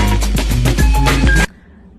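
A sampled drum breakdown plays loud and close: a tight funk groove of punchy kick, snare and busy hi-hat with bass tones, cutting off abruptly near the end.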